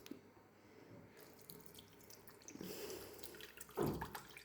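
About 500 g of water poured into a Thermomix TM7 bowl: a soft, close trickle and splash that builds gradually and peaks in a brief louder gush near the end, with no talking.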